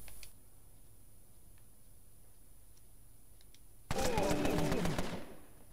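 A short loud burst of rapid gunfire in Empire of Sin, about a second of crackling shots after a quiet stretch with faint clicks, ending abruptly.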